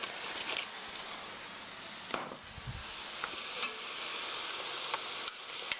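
Pork stir-fried with rice wine, doubanjiang and ketchup for a rice bowl, a constant bright sizzle punctuated by sharp spatula clacks and stirring scrapes, close and moderately loud.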